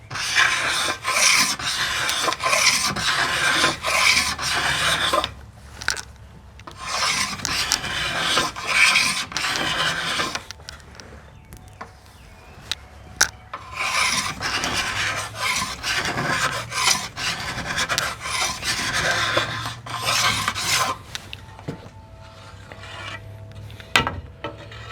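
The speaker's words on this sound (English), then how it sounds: "I'll probably take off maybe 10 scrapes off this side, 10 scrapes off that side" A scraper drawn repeatedly along the limbs of an Osage orange selfbow during tillering makes loud, close rasping strokes in a steady rhythm, pausing briefly around the middle before resuming, with no talking.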